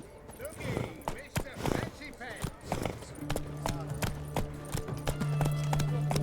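Roach, the horse in The Witcher 3, clip-clops at a steady trot with a quick rhythm of hoofbeats in a game world. A voice speaks over the hooves, and a low droning tone rises near the end.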